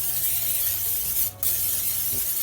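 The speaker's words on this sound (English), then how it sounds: "this pot we're gonna put a little bit of olive oil spray in our pot." Olive oil cooking spray misted into a preheated breakfast pot, a steady close hiss lasting a couple of seconds with a brief pause, quiet and without speech.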